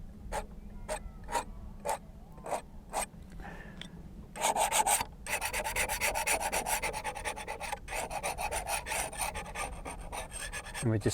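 A palette knife scrapes oil paint across a canvas during plein air painting outdoors. Several short, evenly spaced strokes come first, then longer continuous rasping scrapes, close and fairly loud with no talking.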